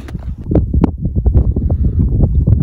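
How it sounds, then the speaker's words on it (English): Gusty wind buffets the microphone in rough, low rumbling bursts, loud and close, with no voices. "A little bit windy here"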